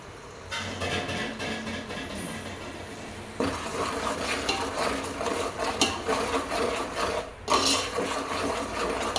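Paneer biryani masala being stirred in a pan, a continuous rasping scrape of spoon against metal that runs steadily throughout, close and fairly loud, with brief dips and bursts of louder scraping.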